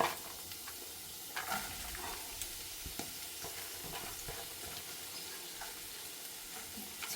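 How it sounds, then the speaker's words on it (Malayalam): Finely chopped onions sizzle in hot oil on the stove, a soft, continuous frying hiss with occasional stirring clicks and scrapes throughout. "ഒരു പാത്രത്തിൽ കുറച്ച് സവാള പൊടിങ്ങനെ അരിഞ്ഞെടുത്ത സവാള ഉണ്ട്, അതിലിട്ട് വെക്കാം."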